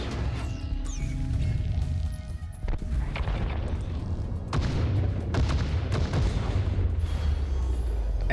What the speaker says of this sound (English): Well, actually, the missile will take you out.